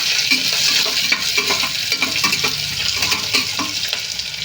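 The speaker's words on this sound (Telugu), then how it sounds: "ఇప్పుడైతే పచ్చిమిరపకాయలు వేసాను క్యాప్సికం వేసాను క్యారెట్ కూడా వేసేస్తాను ఇవి బాగా ఫ్రై చేస్తాను" Green chillies, capsicum and carrot fry for vegetable upma, a loud close sizzle with busy, rhythmic stirring scrapes against the pan throughout.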